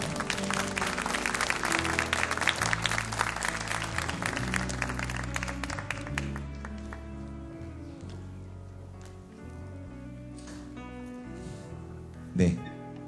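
Applause from a church youth worship congregation welcoming an engaged couple forward, a dense burst of clapping over sustained music that fades after several seconds, leaving the music alone with a brief thump near the end.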